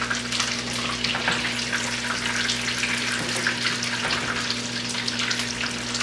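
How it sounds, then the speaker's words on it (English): Waffle-battered chicken fries in hot oil, a constant close crackling sizzle with dense popping, steady from start to finish with a low hum beneath. "this is frying up real nice"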